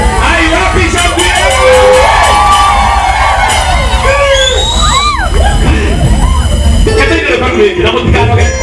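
A festive crowd gives a couple a royal-style welcome in a village outside Nairobi. Loud, continuous cheering and shouting fill the scene, with shrill whoops and whistle-like cries sliding up and down and voices mixed throughout.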